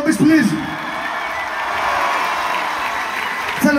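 An audience at a live hip-hop concert at Moni Lazariston in Thessaloniki, Greece, keeps up dense applause and cheering, with whoops and a voice over the crowd at the start and end.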